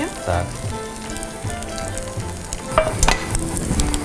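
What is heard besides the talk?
tortilla omelette frying in a pan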